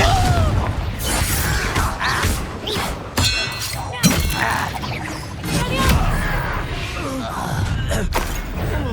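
Confringo blasting spells are cast in the video game Hogwarts Legacy during combat, producing repeated loud booms, shattering crashes and thuds over a dense battle din, with a voice shouting spell incantations.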